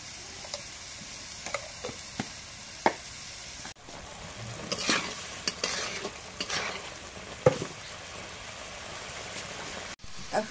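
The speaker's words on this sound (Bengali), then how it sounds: "এখন কপি আলুটা দিয়ে মশলাটা কষা নিয়েছি।" Cauliflower and potato fry with spices in a pan, a soft close sizzle broken by scraping stirs and sharp utensil clicks in an irregular rhythm, with occasional faint voices.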